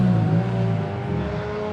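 A Honda drift car's engine revs loudly and steadily at close range, a dense mechanical roar that holds without letting up.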